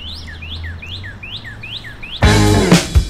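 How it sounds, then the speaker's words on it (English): A bird sings a repeated series of rising whistled chirps in a steady rhythm during a cycling ride across Iowa, then a burst of loud noise and clatter cuts in near the end. "That bird is awesome. You hear that bird?"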